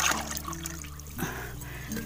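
Water is poured onto garden plants such as curry leaf, tomato, bottle gourd and snake gourd, giving a soft trickling splash over a low steady background hum.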